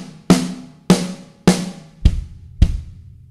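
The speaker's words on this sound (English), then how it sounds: "So we've got four notes on the snare drum and then two notes on the bass drum." Drum fill on a kit, four evenly spaced snare hits followed by two deep bass drum thumps, close and punchy at a steady moderate tempo.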